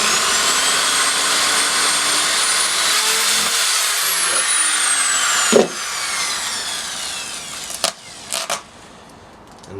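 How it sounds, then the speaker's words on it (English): Power drill boring a hole while building a vertical garden system, a loud steady high whine running continuously with a few sharp knocks and bursts near the end. "and then I can start drilling it."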